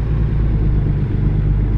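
Loud, close truck engine in American Truck Simulator held under throttle, a thick, steady low rumble and drone that runs unbroken for the whole short stretch.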